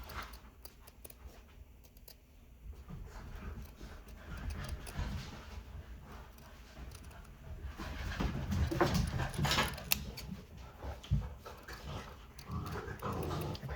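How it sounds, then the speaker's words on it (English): Three puppies indoors pant and whimper in quick, breathy bursts with small squeaky whines, growing busier and louder toward the end. "I probably should have made this video when my dogs were having a nap."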